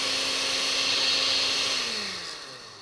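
A blender whirs through strawberries and lemon juice with a loud, steady motor whine and churning, then winds down as the motor slows toward the end.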